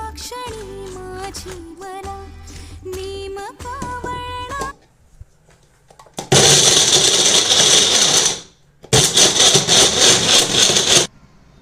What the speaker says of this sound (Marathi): आता हे सर्व मिश्रण आपण मिक्सर मधनं ब्लेंड करून घेऊया।